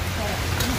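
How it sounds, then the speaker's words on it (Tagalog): Heavy rain pours down in a continuous, dense hiss that fills the whole moment. A voice is faintly audible beneath the downpour. "Malakas ang ulan!"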